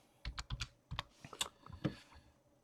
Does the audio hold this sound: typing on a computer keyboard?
yes